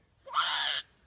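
A person lets out one short, strained scream in imitation of a goat, lasting about half a second against near silence.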